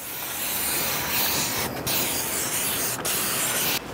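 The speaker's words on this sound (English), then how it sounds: "spray the inside of it as well, just to help get it clean, get any smoke residue off" A continuous hissing spray of cleaner inside an offset smoker, steady and close, with a few brief pauses where the spraying stops and restarts.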